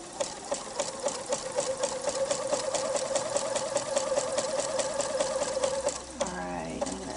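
A sewing machine stitches lace fabric in a fast, steady mechanical whir and chatter, close and continuous for about six seconds before winding down, with faint background noise and no clear talk.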